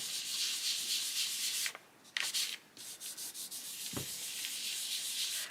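Soft pastel is rubbed back and forth on paper while colouring in a planner page, a close, continuous hissing scrub with brief pauses and a rhythmic stroking pattern near the end.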